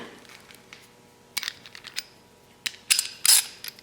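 Ratchet fitted with a 13mm socket working on a propane-powered LEHR 5.0 HP outboard motor, heard as scattered quiet clicks and a few sharp louder metallic clatters toward the end.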